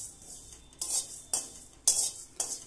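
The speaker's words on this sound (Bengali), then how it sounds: "জিরেগুলোকে আমি কয়েক সেকেন্ডের জন্য নেড়েচেড়ে নিয়ে ভেজে নেব।" Whole cumin seeds are stirred and dry-roasted in a wok: a quiet, rhythmic series of about five short scraping, rattling strokes, close by and with no one speaking.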